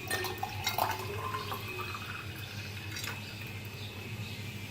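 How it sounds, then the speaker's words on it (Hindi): Sharbat, a chilled sweet drink, pours into a glass as a faint trickle with soft splashes and small drips against a quiet background. "अब हम इसको जो है वो गिलास में डालना है।"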